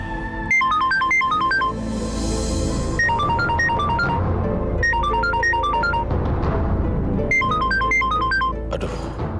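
A phone ringtone plays a repeating melodic tone pattern in loud bursts with short pauses between them, signalling an incoming call in an Indonesian TV drama, with background noise underneath.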